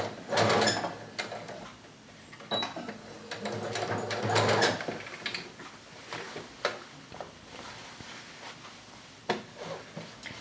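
A sewing machine stitches a shirt collar seam in several uneven bursts, loudest near the start and again around four seconds, with quiet pauses and faint handling noises between runs.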